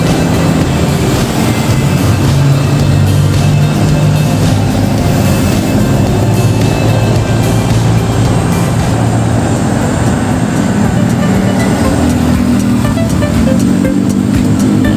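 Steady heavy highway traffic beside the Camp Aguinaldo station construction site on Boni Serrano, a loud continuous rumble of engines and tires with passing vehicles and no voices.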